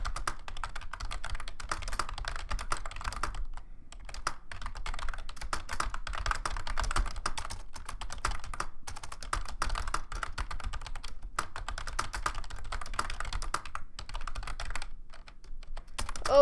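Fast continuous typing on a computer keyboard, rapid close clicking keystrokes with a few brief pauses, no voices over it.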